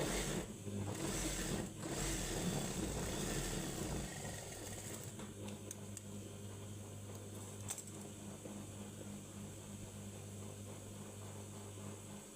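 Sewing machine running steadily while stitching a double seam on palazzo pants, a continuous mechanical whirr at low volume that holds through the whole stretch.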